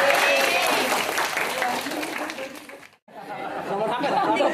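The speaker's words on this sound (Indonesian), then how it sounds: "Tepuk tangan dulu ya." A classroom audience in a citizenship lecture on federal versus unitary states claps for a few seconds amid chatter and light laughter. The sound stops abruptly, then resumes more softly.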